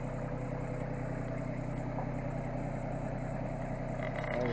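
A Massey Ferguson 1526 tractor engine runs steadily at idle by a barn entrance, a continuous low mechanical drone with a faint rhythmic pulse, moderately close and unchanging throughout.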